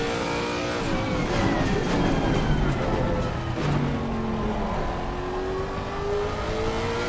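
A Lexus race car engine in the Assetto Corsa Competizione sim racing game roars loudly and continuously, its pitch rising and falling through gear changes and revs with a steady droning tone, heard alone without any talk.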